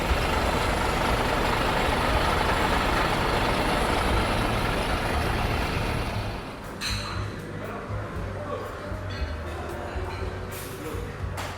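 A bus engine idles on an intercity Jakarta–Padang trip with Transport Express, a dense, steady rumbling drone that drops noticeably quieter about halfway through, leaving a softer hum with faint clinks.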